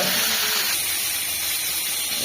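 Prawns hitting hot oil in a heated wok, a loud, steady broadband hiss and sizzle that holds continuously without breaks.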